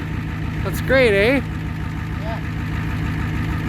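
1990 Ford F250 with a 7.3 diesel idling after a cold start, a steady low rhythmic engine clatter running throughout while someone talks briefly over it.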